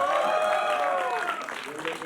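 Applause from a crowd at a Delhi promotional event for a new song, a brief burst of clapping that fades within two seconds, with a voice talking over it.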